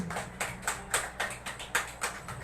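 Scattered audience applause at a final-round youth preaching competition, quiet and thin, with about nine distinct clap bursts in an uneven rhythm and no voices.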